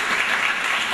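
Applause at a state legislative district candidates' debate, a short burst of steady, dense clapping from the audience, loud and continuous with no voices over it.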